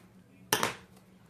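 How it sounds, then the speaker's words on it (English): Sharp cut of micro tip scissors snipping through excess upholstery fabric on an end chair, a single close crisp snip that fades over about a quarter second, alone with no voices. "Use your micro tip scissors if you have to."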